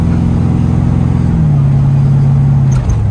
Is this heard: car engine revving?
yes